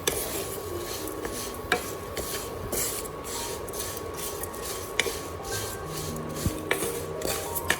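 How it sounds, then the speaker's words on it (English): Red dates added to rice and ginger dry-roasting in a pan, giving steady scraping and rubbing with scattered light clicks and taps as the ingredients are stirred, close and fairly loud. "add the red dates to the pan"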